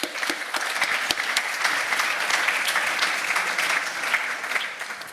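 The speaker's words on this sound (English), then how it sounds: "So if we give them all a round of applause, thank you." An audience at a seascape symposium session applauds the speakers, a sustained burst of clapping from many hands lasting several seconds, fairly even throughout and easing slightly at the end.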